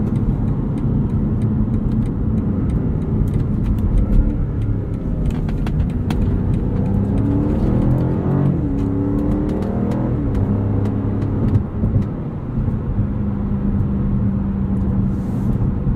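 A 2022 BMW M5 CS engine drones steadily from inside the car as it drives and accelerates, with loud, continuous road and tyre noise. Pitch rises and falls with the revs, and no one speaks.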